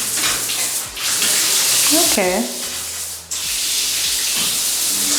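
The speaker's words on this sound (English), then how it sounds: "So you have your water flowing over here." Water runs steadily from a shower in a new mountain vacation home with large porcelain tile, a broad hiss filling the clip while a person speaks briefly over it.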